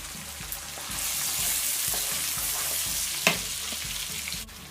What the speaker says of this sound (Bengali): 2 টিস্পুন রসুনের পেস্টটা দিয়ে আমি এটাকে মশলাটাকে আবার কষিয়ে নিচ্ছি